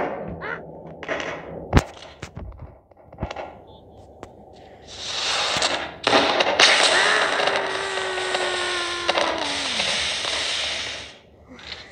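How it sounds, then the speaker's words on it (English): Fireworks going off in a video game: scattered sharp pops and cracks early on, then a long loud burst of crackling and fizzing explosions with a descending whistle, under occasional talk. "Why is there fireworks?"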